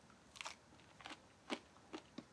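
Bites into crunchy homemade tempeh breakfast sausage flavored with miso and maple: five or six sharp, close crunches spaced through the moment, with quiet pauses between.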